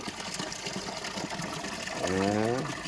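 Water runs steadily as someone bathes, a continuous splashing stream with a brief rising gurgle near the end.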